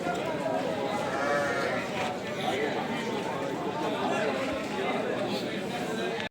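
Sarıbaş male lambs bleat at the Kadirli livestock market, repeated bleats mixed into a dense crowd of chattering voices and market noise.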